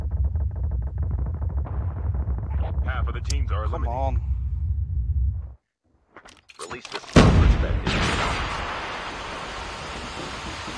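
Gunfire rings out in a battle royale scrim match: voices talk first, then a short silence, then a sharp loud burst of shots that tails off into a lingering noisy rumble.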